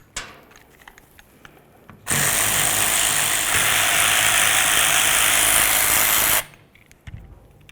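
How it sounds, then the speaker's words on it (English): A power drill or impact tool spins steadily for about four seconds while removing 10mm headed bolts from the oil cooler of a 2007-2012 Nissan Altima, loud and close, with only faint handling noises before and after. "take off these four 10mm headed bolts so we can get to where this gasket is"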